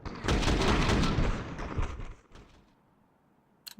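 Gunfire bursts from an esports Counter-Strike match at IEM Dallas 2025, loud and dense for about two seconds with faint voices underneath, then fading to quiet before a short sharp click near the end.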